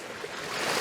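Steady, close rush of a waterfall beside the listener in the Ogwen Valley mountains, a broad continuous wash of falling water that swells slightly louder toward the end, with no voices.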